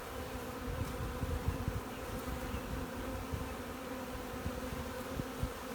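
Honeybee swarm humming steadily and close throughout, a dense continuous drone with occasional louder passes of individual bees, no voices.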